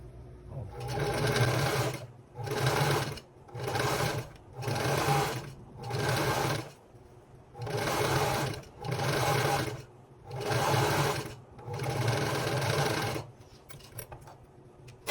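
A sewing machine stitches the strap of a three-pocket bag after the thread broke, in about nine steady bursts of close, loud running separated by short pauses.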